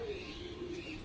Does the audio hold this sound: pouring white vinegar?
no